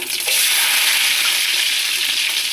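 A handful of small onions hits hot oil in a pan for a village-style country chicken curry, bursting into a loud, dense sizzle that holds steady throughout, close up with no talking.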